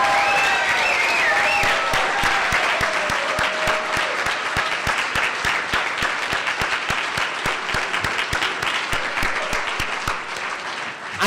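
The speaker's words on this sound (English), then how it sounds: "How about one more big round of applause for all 4 honorees?" A crowd at a tenth birthday party event in Minnesota applauds four honorees with a long, loud round of dense clapping that tapers slightly toward the end.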